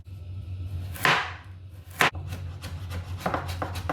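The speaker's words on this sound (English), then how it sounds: "Now we chop the garlic." A knife chops garlic on a board with a few sharp, separate strikes over a steady low hum.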